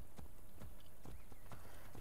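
Horse hooves clip-clopping in Assassin's Creed Brotherhood, a rhythmic run of sharp hoof strikes about every half second over a constant game ambience.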